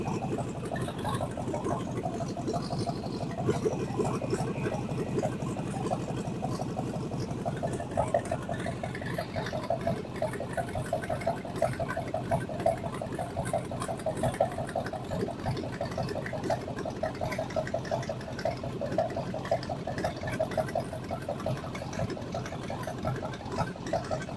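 A 2002 6-liter LS V8 engine idles steadily with a fast, even ticking and rumble, close and continuous throughout, with no voices.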